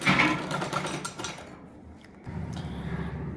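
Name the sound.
sewing machine stitching lace to a neckline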